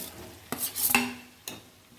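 A spoon stirs and mashes boiled potatoes in a pan for a hotel-style potato masala, with a few scraping strokes and sharp clinks against the metal, close by with no talk.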